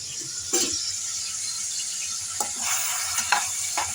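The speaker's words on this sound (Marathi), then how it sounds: "आता कढईमध्ये तेल गरम करून त्यामध्ये एक कांदा कापून घालायचा आहे।" Soft, steady sizzle of chopped onion frying in hot oil in a kadhai, with a few brief clinks and scraping stirs scattered through.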